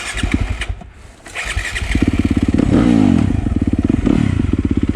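Yamaha YZ250FX dirt bike revving and pulling away, a loud, close single-cylinder engine with a rapid pulsing exhaust note that climbs through the gears, dipping briefly before surging again.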